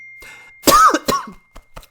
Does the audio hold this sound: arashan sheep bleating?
no